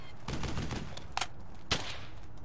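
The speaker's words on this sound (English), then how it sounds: "Just keep firing!" Gunfire in the World War II shooter game Brothers in Arms: Hell's Highway, a few sharp cracking shots with a burst of rattling fire, heard over a low background rumble.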